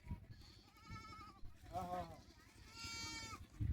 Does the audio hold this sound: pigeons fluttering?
no